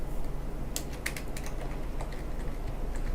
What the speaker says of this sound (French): J'appuie sur toutes les touches de mon clavier là.